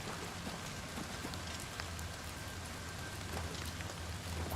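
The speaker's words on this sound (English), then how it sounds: "I can hear it raining underground in this ruined fort's basement." Steady rain patters softly on a surface, a constant muffled hiss with scattered drips and no voices; rain heard from inside a ruined fort's basement in the video game Oblivion Remastered.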